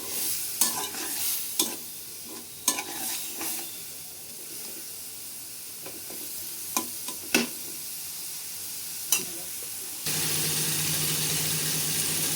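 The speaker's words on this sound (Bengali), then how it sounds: "এখানে চিংড়ি মাছও ভাজা হবে, পেঁয়াজ রসুনটাও একটু ভাজা হবে তেলে।" Shrimp, onion and garlic sizzle in oil in a pan, a continuous close hiss punctuated by repeated sharp scrapes and clinks of a stirring utensil, the sizzle growing fuller toward the end.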